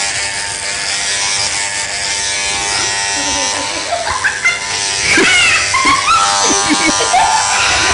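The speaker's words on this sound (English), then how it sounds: "we'll just fit a number 4 to the wild clipper and clipper off around the short bits around the side" An electric hair clipper fitted with a number 4 guard buzzes steadily while cutting a child's hair, close up and continuous, with people talking over it.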